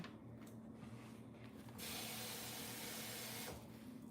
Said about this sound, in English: Can you put a little bit of water in that for me?